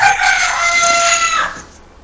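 A rooster crows once, loud and close, a single sustained bright call lasting over a second before cutting off, with no talk.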